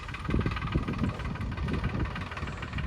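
A tractor engine runs steadily at close range on a farm during potato work, a continuous low rumbling drone with no talk over it.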